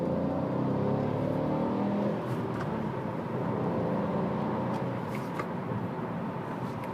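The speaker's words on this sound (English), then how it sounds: "1 litre engine. It's a little turbo thing, 3-cylinder, makes a great little noise." A Kia Stonic with a 1-litre three-cylinder turbo petrol engine revs under acceleration from inside the cabin, giving a steady, throaty drone that holds for several seconds at moderate loudness.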